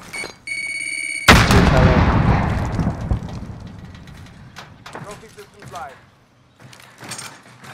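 A frag grenade explodes in Call of Duty: Modern Warfare, a sudden loud blast after a short game tone, trailing into a long fading rumble with scattered debris and voices around it.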